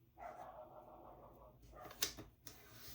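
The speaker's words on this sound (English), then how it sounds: "the dogs that are barking, they're actually like they're actually super cute and little, but they bark at everything" Small dogs bark a few times in quick, yappy bursts, fairly faint and somewhat distant, against quiet room background.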